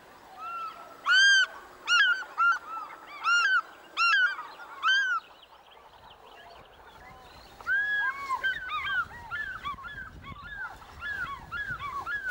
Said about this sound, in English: The lonely cry of the fish eagle is one of Africa's most evocative sounds.